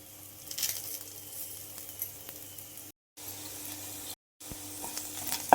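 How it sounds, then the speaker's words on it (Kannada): Okra frying in a pan, a steady hiss and crackle of sizzling oil with light spatters, broken by two short silent gaps. "ಬೆಂಡೆಕಾಯಿ ಆಲ್ಮೋಸ್ಟ್ ಆಲ್ ಹುರಿದಿದೆ,"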